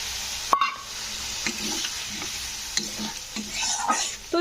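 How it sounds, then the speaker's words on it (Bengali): Spiced vegetarian gravy with kasuri methi sizzles in a frying pan while a spoon stirs and scrapes it, with a splash as a little water is added, close and steady. "সামান্য একটু নাড়াচাড়া করে দিয়ে দেবো সামান্য একটু জল"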